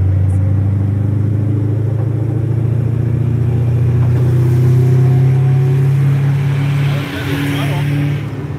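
A Ford Mustang engine drones loud and close, its steady low pitch holding and then dipping sharply near the end as the gear changes, while people talk over it.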